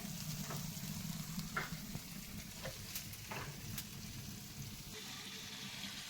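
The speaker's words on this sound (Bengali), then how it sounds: "এই চিকেন কষা চলছে।" Chicken sizzling and frying in a pan while being stirred, a steady crackle with scraping stir strokes, close and continuous, no talking.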